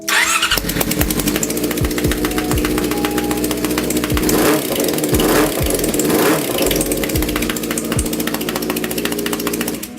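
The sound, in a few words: motorcycle engine popping on three cylinders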